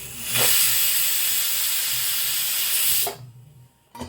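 A pressure cooker of chicken curry blasts a loud, steady whistle of escaping steam for about three seconds, then cuts off abruptly, leaving a quieter hiss before a brief final puff.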